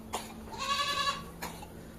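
Kathiawadi dairy goats bleat on a farm: one drawn-out, wavering call close by, followed by a shorter faint bleat, over quiet background.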